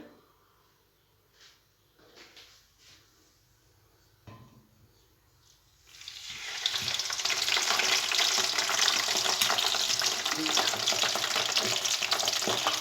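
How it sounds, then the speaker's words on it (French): After a few soft clinks, a basket of potatoes for Spanish tortilla drops into hot oil and erupts into a loud, dense, continuous frying sizzle that carries on close by. "l'huile elle est chaude. Je vais mettre le panier de pommes de terre"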